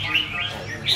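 A red-whiskered bulbul gives a few bright, whistled chirps, clear and fairly close over steady low background hum.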